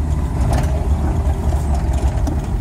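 Volkswagen Gol car engine revving under acceleration, a loud steady low rumble from close by, holding fairly even for a couple of seconds.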